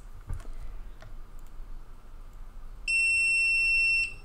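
A few faint clicks and taps, then a single loud, steady high-pitched beep from a gemstone tester touching a brooch, lasting about a second before cutting off.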